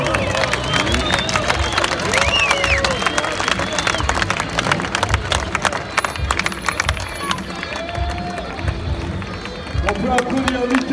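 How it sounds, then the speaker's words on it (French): A crowd at a bike fest claps and cheers in a dense, sustained burst of hand claps and shouts that carries on at full strength for about ten seconds, with scattered voices calling out through it. "On peut applaudir Michael!"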